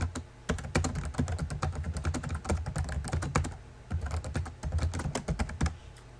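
Rapid typing on a computer keyboard, loud close-up key clatter in irregular bursts with brief pauses, no talking.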